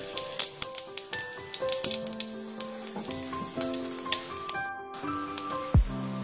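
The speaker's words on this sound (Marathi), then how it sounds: "आता तेल गरम झालेले, त्याच्यात जिरे टाकायचे" Cumin seeds hit hot oil in a pan and crackle and sizzle sharply, with dense popping spits near and loud, settling into a steady hiss, no voices.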